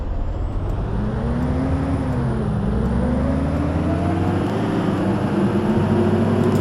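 A city bus in the OMSI 2 simulator pulls away on Line 23 to Derenhofen, its engine droning loudly and steadily with a rising, slightly strained whine as it gradually accelerates, and no talk.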